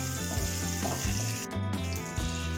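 Green chilli, ginger and curry leaves sautéing in a pan with roasted gram and cumin for masala dosa filling, a gentle continuous sizzle beneath prominent background music.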